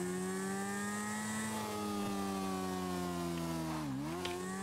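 Video game motorcycle engine running steadily, a droning buzz that holds its pitch, briefly dips low near the end as if easing off, then picks back up, with no voices over it.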